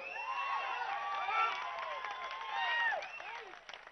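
An audience at a political speech by Andhra Pradesh government advisor Jupudi Prabhakar Rao stands, claps and cheers, with a dense wash of shouting voices and whoops over scattered applause.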